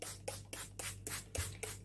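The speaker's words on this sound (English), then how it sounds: "Now you can spray from far and have more of a mist." A spray bottle mists water onto plain paper in a series of about seven rapid, evenly spaced hissing bursts, close and fairly quiet.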